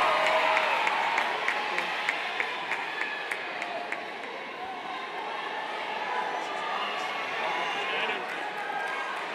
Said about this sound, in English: let's do a big round of applause for our friends and family that are here today to support us